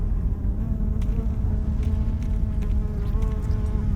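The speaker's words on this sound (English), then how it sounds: "It really feels and sounds like there's a fly buzzing around your head." Flies buzzing close around the player's head in the video game Into the Radius 2, a loud continuous insect drone with wavering pitch lasting throughout, no talking.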